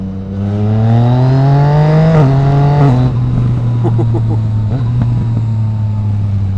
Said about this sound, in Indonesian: Apalagi nih knalpot Akrapovic apa ya, kayaknya yang Slovenia, jadi yang benar-benar underbelly banget.